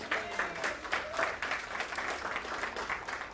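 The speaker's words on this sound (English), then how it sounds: "let's give them all a round of applause" Congregation applause for board members at a church service, a steady spread of scattered hand claps from a moderately distant crowd, continuing for several seconds without speech over it.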